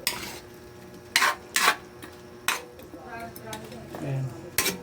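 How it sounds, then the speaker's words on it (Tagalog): A spoon stirs chicken adobo in coconut milk with dried fish in a pan. It makes a few sharp clanks and scrapes against the metal, spaced out over a soft simmering background. "Mikos-mikos lang para ano yung mag-mix yung ating tuyo mga lods na nilagay."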